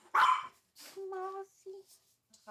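A puppy gives a few short barks and high whimpering yips in quick, uneven bursts, close and fairly quiet, with gaps of silence between.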